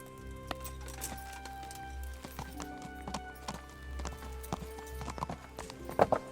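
Horse hooves in Kingdom Come: Deliverance clop at a steady walking rhythm over low ambient game background, with occasional louder strikes and a brief jingle near the end.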